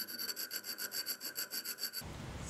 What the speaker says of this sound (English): I'm going to file in some grooves at the spine of the knife